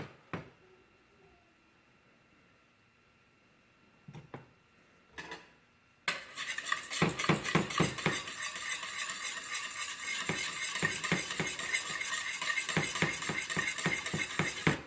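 A spoon scrapes and stirs a heating fudge mixture around a pot on the stove, quiet at first with a few clinks, then a steady, close, rhythmic scraping with light sizzling that runs to the end.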